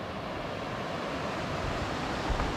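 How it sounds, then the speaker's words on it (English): White-water rapids on the Tallulah River, heard from a roadside overlook, give a steady, broad rushing roar that stays constant throughout. "White water."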